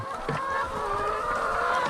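Free-ranging flock of about a thousand hens on open ground, with a steady layered chorus of clucking and murmuring from many birds, continuous and fairly close.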